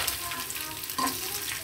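Mustard seeds and chillies sizzle and crackle in hot oil for a kadhi tadka, a steady close frying hiss with a brief stir or clink partway through, no voices.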